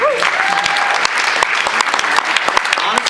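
Audience applause from a crowd in a room after a presentation, with dense steady clapping throughout and a few voices and a brief whistle mixed in.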